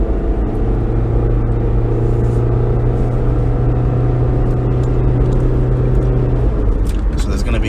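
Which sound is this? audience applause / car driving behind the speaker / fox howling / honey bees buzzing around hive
car driving behind the speaker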